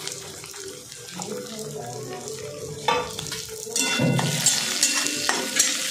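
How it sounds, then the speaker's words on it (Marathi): Chopped onion frying in a pan for a traditional mixed vegetable dish, running water and clattering over a low sizzle, growing louder and busier toward the end. "आता ही कांदा परततोय"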